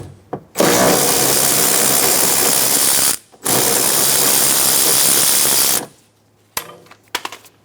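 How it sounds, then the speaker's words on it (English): A ratchet spins loudly and fast in two long runs, backing out a 10mm bolt from the door bracket of a 2003-2007 Honda Accord, followed by a few brief clicks and clinks. "Remove the 10mm bolt."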